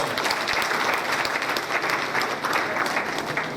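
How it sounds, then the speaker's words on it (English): An audience at a graduation ceremony applauds in a steady, fairly dense wash of clapping, moderately loud and continuous throughout the short stretch. "Please give him a round of applause."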